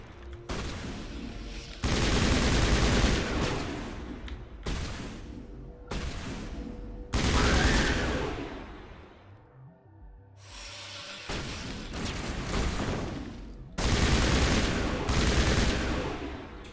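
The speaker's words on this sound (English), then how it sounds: "Explosion!" Explosions and gunfire from the Mass Effect video game fill the scene: dense, loud bursts of shooting and blasts come in long stretches, broken by brief quieter gaps.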